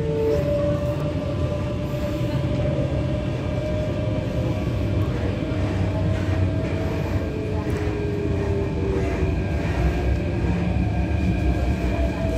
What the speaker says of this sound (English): Okay, so there goes a Airport Express Line train over there.